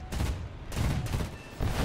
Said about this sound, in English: See if I can get him with the cannon